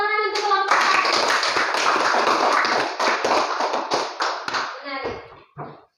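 Classroom of students clapping for a presenting group, a brisk burst of many hands that thins into scattered claps and trails off, with a brief voice at the start and end.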